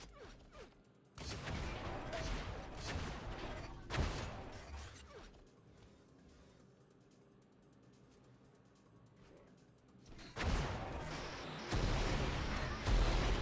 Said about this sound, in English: there's some rockets coming down, just barely missing though